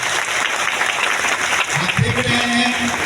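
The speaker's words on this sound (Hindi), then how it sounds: "एक जोरदार ताली प्रोफेसर सर के लिए।" Audience applause at a DXN mega event in Latehar, Jharkhand, a dense wash of clapping from a crowd with a voice speaking over it near the end.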